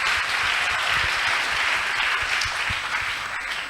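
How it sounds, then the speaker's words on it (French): An audience claps steadily throughout at a talk show event, a dense, continuous wash of applause that stays fairly loud and fades slightly toward the end, with no voices heard. "Est-ce qu'on peut acclamer pour elle"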